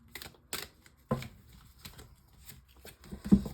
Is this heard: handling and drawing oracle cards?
yes